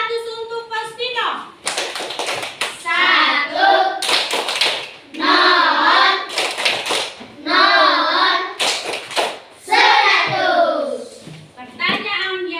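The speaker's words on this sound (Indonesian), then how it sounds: "tepuk 100 untuk Faustino" A classroom of children performs the patterned 'tepuk 100' clapping routine for a student, loud rhythmic claps in bursts alternating with the children chanting in unison close by.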